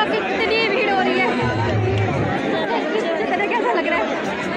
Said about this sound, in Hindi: तो फ्रेंड देख लो कितनी भीड़ हो रही है